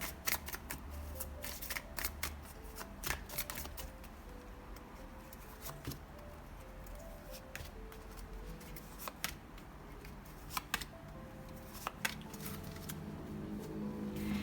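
Tarot cards are shuffled and dealt onto a surface in a quiet room, with scattered close, crisp flicks and soft card slaps spread unevenly over steady low background hiss.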